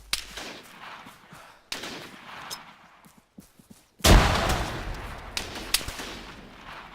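Video game combat with scattered distant gunshots, then a loud grenade explosion whose rumble decays over several seconds, with a few more sharp shots after it.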